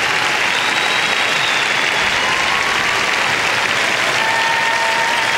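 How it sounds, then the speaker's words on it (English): Steady applause from a large arena crowd after an ice dance free dance at the 2003 World Figure Skating Championships, dense and continuous throughout with no talk over it. "the crowd thanking them for that"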